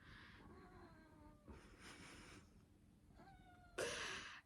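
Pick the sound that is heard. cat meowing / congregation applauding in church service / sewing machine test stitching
cat meowing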